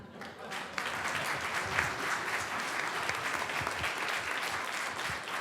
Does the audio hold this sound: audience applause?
yes